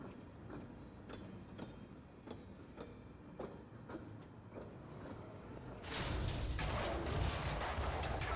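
A train in the video game Pathologic 2 rolls along rails with steady clickety-clack beats, then a louder rushing roar swells in as it passes close, with no talk over it.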